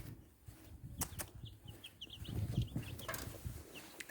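Small high-pitched cheeps from a chick come in quick bursts over soft rustling and scuffling, with some flapping sounds nearby.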